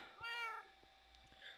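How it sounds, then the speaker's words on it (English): A cat gives a single short, fairly faint meow, followed by a few soft clicks in a quiet room. "Meow."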